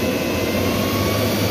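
Hart 40V brushless backpack leaf blower running on power boost, a steady loud broadband whoosh and whine held at constant speed throughout, close up with no talking.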